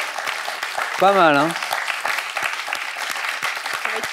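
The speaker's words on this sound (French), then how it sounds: "Oui, vous pouvez l'applaudir" A studio audience on a French television quiz show claps in a steady burst of applause lasting the whole moment, with a voice speaking briefly over it.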